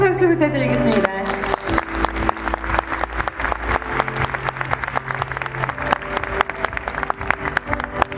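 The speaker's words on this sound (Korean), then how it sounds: "네, 큰 박수 부탁드리겠습니다." An audience at a year-end concert breaks into sustained applause, dense, steady clapping that swells after a short spoken line and music at the start, with faint music continuing underneath.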